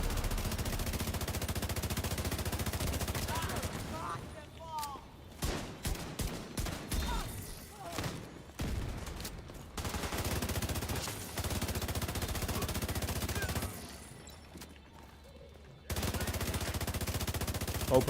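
Bursts of automatic gunfire and scattered shots from The Division, a loud clatter that breaks off into quieter stretches and then resumes, with a voice heard faintly now and then.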